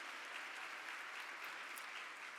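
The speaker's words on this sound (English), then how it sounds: "give yourselves a round of applause for being here" An audience at an awards gala applauds themselves, a continuous, even patter of many hands clapping at a soft, distant level.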